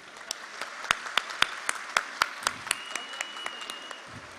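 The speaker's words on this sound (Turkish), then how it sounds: "Onları hep beraber bir alkışlayalım istiyorum." Audience applause for high-ranking students, mostly girls, at a Turkish school awards event: a few loud, distinct claps in a fairly steady rhythm over a soft bed of scattered clapping, thinning out toward the end.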